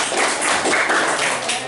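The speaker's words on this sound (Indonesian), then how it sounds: "Tepuk tangan." Classroom students clapping for a presenting group, a short, dense burst of close, loud hand claps with no speech over it.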